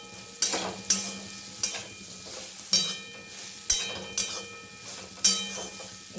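Okra with turmeric and salt is stirred in a pan, a spoon scraping in regular strokes roughly every half second over a faint background sizzle, with no talking.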